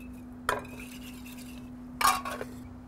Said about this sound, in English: Whisk in a little coarse salt